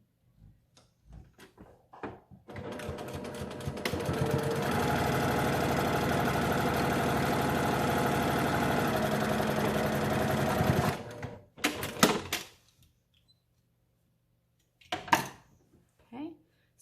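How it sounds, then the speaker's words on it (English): A sewing machine stitches fabric for a 3D mask in one long, steady run of about eight seconds, a close, even mechanical whir framed by quiet clicks and handling noises before and after. "I'm going to just stitch about 1/8 of an inch from the bottom of my tie casing"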